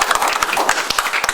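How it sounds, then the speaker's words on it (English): Applause at a county commission meeting for a sheriff's sergeant: a small group clapping steadily and briskly, close and fairly loud, with no voices over it. "So we'll give Sergeant Sibia an applause for that."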